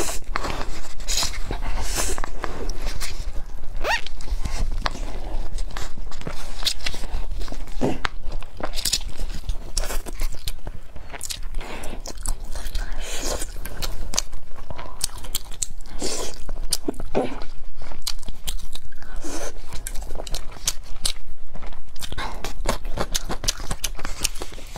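Close-up chewing and slurping of spicy mala mixed instant noodles with meatballs, with continuous wet mouth sounds and crunchy bites repeating steadily throughout and no talking.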